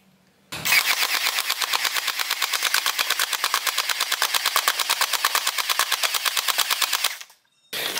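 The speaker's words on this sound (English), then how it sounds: "Wow, Thompson machine gun." A toy Thompson machine gun fires a long, rapid, even burst of rattling shots for about seven seconds, loud and close, then stops abruptly; no one speaks.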